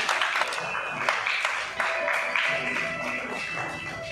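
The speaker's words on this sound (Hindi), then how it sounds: "तालियां बजाएं आप सभी के लिए" Audience clapping at a school felicitation and trophy ceremony, moderate scattered applause with a few sharper claps, and voices audible over it.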